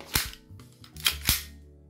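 A green gas airsoft gun fires during a chrono test, giving a few sharp, snappy cracks at close range, each with a short gassy tail, spaced irregularly within two seconds.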